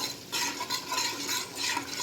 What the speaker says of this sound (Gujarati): હવે આ બધું મિક્સ કરી નાખવાનું.